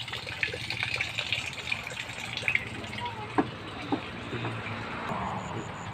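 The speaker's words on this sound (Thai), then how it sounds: "เบิ่งสภาพก๊อกน้ำของน้องเพิ่นนี่ก็สาหัสแล้วนะพี่น้องเอ้ยนี่" Water gushes steadily from a badly damaged tap at a house under construction, a continuous close rushing flow with faint clicks and knocks in the background.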